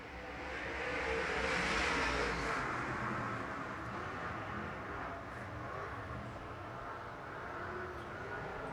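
Late model race cars on the track at Arizona Speedway during SWDRA heats, a continuous distant roar of engines that swells early and then holds steady, heard from afar.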